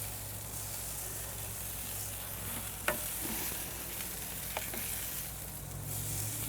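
Burgers sizzle steadily on a grill, a continuous broadband frying hiss at moderate level with two brief sharp clicks from a spatula as the patties are flipped.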